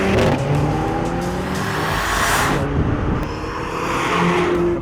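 Mercedes-Benz CLA 45 AMG launching from a standstill, a loud engine pulling hard through rising revs with brief gear-change breaks and the pitch climbing again, close and with no voices.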